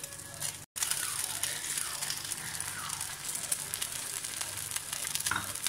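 A bread slice dipped in an egg-and-milk mixture fries in a pan with a steady, close sizzle, cut off by a brief moment of silence before the crackling frying carries on.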